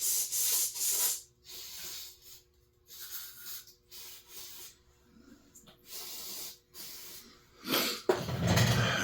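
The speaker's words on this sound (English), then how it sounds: "we're going to spray a little bit of juice down through the needle hole." Cleaner sprayed into the needle hole of a McCulloch PM 700 chainsaw carburetor, heard as several close hissing bursts separated by pauses, the final burst louder and longer.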